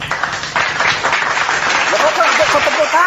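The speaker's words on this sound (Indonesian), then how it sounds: "Kau tepuk tangan, apa maksudnya?" Clapping from a small group breaks out in a quick burst of hand claps beneath lively, raised voices in an indoor debate.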